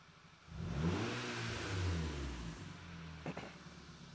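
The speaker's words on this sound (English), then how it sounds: "The car is currently running on all its cylinders right now." A car engine idles steadily then revs up and settles back, close and fairly loud, with a brief higher-pitched rise near the end, running on all cylinders in a workshop with its intake set up to draw air.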